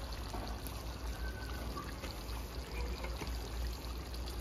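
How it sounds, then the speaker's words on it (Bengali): Water pours and trickles steadily as a cloth is soaked through for sealing a chicken biryani pot, a continuous close liquid stream with no talking. "আমি কাপড়টা ভিজিয়ে নিয়েছি জলে ভালো করে।"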